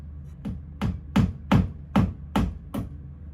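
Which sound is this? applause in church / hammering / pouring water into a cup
hammering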